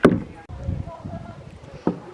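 A kayak paddle dips and splashes on a lake in a few soft, close strokes, each with a brief watery knock, while a person talks quietly.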